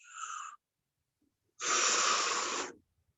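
Heavy breathing during a bike workout: a short, sharp inhale is followed after a pause by a longer, forceful, rushing exhale, close to the microphone, with no talk.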